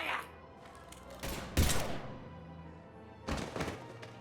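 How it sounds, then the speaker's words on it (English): Gunfire in the video game Mass Effect 3 sounds as a few heavy, booming bursts of shots and thuds spaced across the moment, loud and close over a low background rumble. "Now open fire!"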